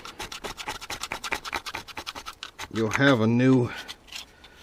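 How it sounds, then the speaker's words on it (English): Repeated scraping of old gasket material off the engine surface of a Jeep Cherokee XJ at the thermostat housing, a fast rhythmic series of close, rasping strokes, with someone briefly talking over it midway. "Make sure you scrape it real good."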